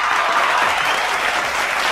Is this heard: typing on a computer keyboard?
no